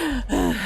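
A voice imitating panting and gasping from an exhausted man hauling himself out of a pool, one short breathy gasp, close and loud.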